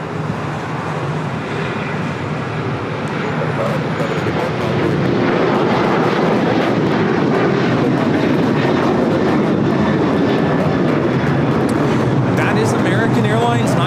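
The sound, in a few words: Boeing 737-800 airliner taking off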